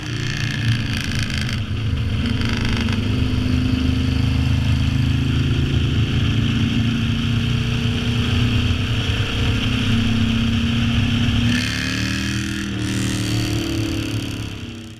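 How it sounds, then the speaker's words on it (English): A loud 1975 Moto Guzzi 850T cafe racer motorcycle engine runs steadily with a deep, throbbing rumble, its tone shifting briefly near the end. "It's a 1975 Moto Guzzi 850T."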